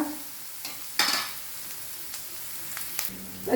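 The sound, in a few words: shallots frying in pan on high flame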